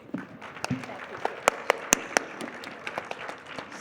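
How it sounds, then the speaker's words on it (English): Audience at a panel talk applauding the speakers, a modest spatter of clapping with a few sharp, distinct claps standing out and some murmuring voices underneath. "So, round of applause, please."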